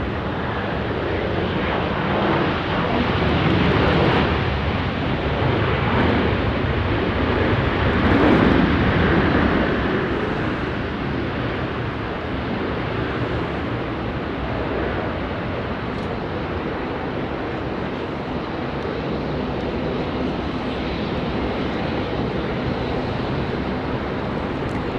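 An Airbus A350-900 airliner at Sydney Airport roars as a continuous broad engine rumble, swelling slightly midway and holding steady, heard from a distance with no talk.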